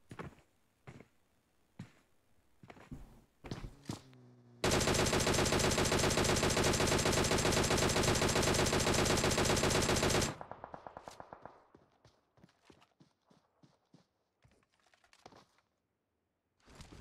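Gunfire in a battle royale video game fight during a Nepal Competitive League match: scattered single shots, then a loud, dense burst of continuous automatic fire for several seconds, fading into sporadic shots and clatter.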